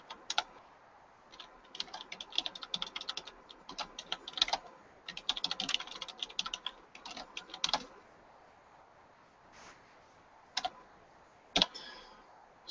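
An address is typed on a computer keyboard in quick, uneven runs of close, crisp key clicks, thinning out into a few isolated taps near the end.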